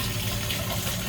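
Red mineral water flows from the Shubuta artesian well in Mississippi in a steady, close, splashing gush for about a second, with no voices.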